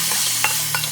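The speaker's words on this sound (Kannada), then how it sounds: "ವಾಶ್ ಮಾಡ್ಕೊಂಡ್ಮೇಲೆ ಚಿಕನ್ನ ಫ್ರೈ ಮಾಡ್ಕೊಬೇಕು" Chicken frying in a pan for a home-style chicken curry, a steady soft sizzle with a few brief stirring scrapes, close and alone without talk.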